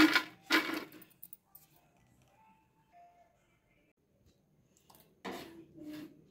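Fried chapala fish transferred onto a plate, with a few bright clinks of utensil against dish at the start, a quiet stretch, then more clattering near the end.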